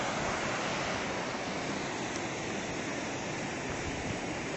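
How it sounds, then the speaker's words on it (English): Salt River rushing along the bottom of Salt River Canyon, a continuous, dense roar of moving water that holds steady and fairly close without any voices. "That's the Salt River."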